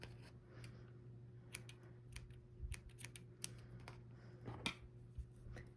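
Scissors snip a yarn tail during crochet work, giving a few faint, sharp clicks and rustles close by in a quiet room.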